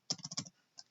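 Rapid keystrokes on a computer keyboard while entering figures, a quick burst of five or six clicks followed by one more isolated tap, close and fairly quiet with no talking.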